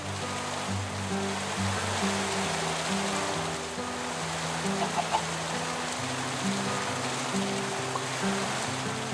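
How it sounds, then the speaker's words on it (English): Minecraft rain ambience: a steady broadband hiss of rainfall that plays continuously throughout, with tonal background music running underneath. "The ambient sound for rain has changed."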